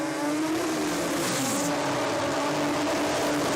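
A drag car with a 4G63 four-cylinder compound-turbo engine runs at a drag-racing event, a distant, fairly quiet steady engine drone with a rising tonal whine beneath the crowd-and-track ambience.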